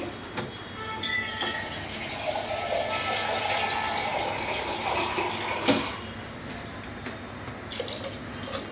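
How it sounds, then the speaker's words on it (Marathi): Water pours into a pan of misal curry in a home kitchen, a steady splashing stream with a few sharp clinks of the vessel, running continuously at close range without talk. "अजून अर्धा ग्लास अर्धा भांडं पाणी घातलेलं आहे"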